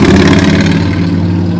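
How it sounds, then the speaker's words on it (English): A motorcycle engine in downtown Llano, Texas gives a loud, steady rumble that holds close and strong for the whole moment, with no voices over it. "did y'all hear a motorcycle?"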